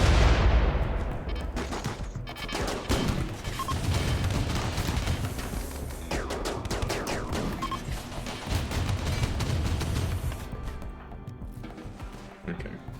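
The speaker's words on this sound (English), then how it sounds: "our allies are shooting me" Allied troops fire on the player in the colony-building game Rimworld, with dense, loud, continuous rattling bursts of gunfire and booms throughout. A voice is faintly heard under the shooting.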